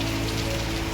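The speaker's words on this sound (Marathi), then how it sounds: "पाऊस एक जोरात." Heavy rain falls during a road trip in Konkan, a dense, even patter on a surface that stays constant and close throughout the brief moment.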